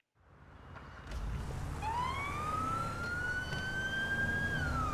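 A police siren in GTA 5, higher pitched than usual, rises into a long rising wail over a low rumble of traffic, close and steady with no talking.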